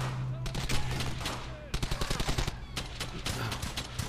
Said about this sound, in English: That guy shooting me through a fucking wall.